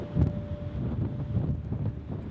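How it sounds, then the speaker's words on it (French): Strong wind buffets camera tripods out in Tornado Alley in the Panhandle, giving low, rumbling gusts that swell and fade close to the microphone. "Beaucoup de vent sur cette journée-là, c'est pas toujours évident de filmer correctement parce que ça souffle sur les trépieds"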